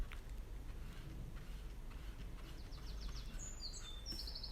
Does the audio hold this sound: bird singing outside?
yes